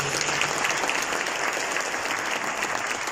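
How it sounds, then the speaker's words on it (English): Dense, steady clapping from a forum audience in Mauritius welcoming a speaker on stage, loud and continuous throughout with no voices standing out. "We can give him a big round of applause."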